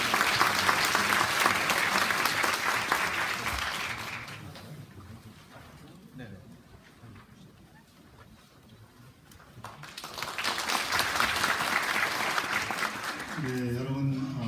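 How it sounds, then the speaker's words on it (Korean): An audience of emergency medical technicians applauds at a gathering in the National Assembly, loud sustained clapping that fades to a quieter lull mid-way, then swells again before a voice begins near the end. "힘찬 박수 부탁드립니다."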